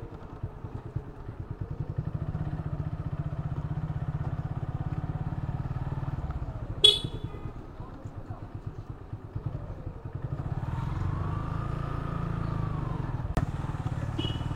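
A motorcycle engine runs steadily nearby through a U-turn, its low rumble holding with throttle and clutch changes, a brief clatter midway and another short knock near the end.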